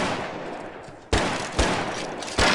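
Gunfire in the film Roadkill: three sharp, loud shots crack out in quick succession, each a sudden burst over a tense background.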